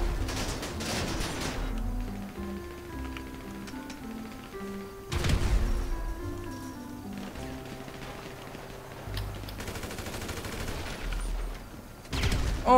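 Gunfire in GTA V Online: several dense bursts of rapid shots, loud and close, separated by quieter stretches with background game sounds and music.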